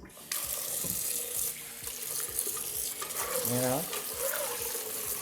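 Rice for a meal of October beans being rinsed under a running tap, with steady splashing and gushing water at the sink, broken by a few tonal squeaks and a voice partway through.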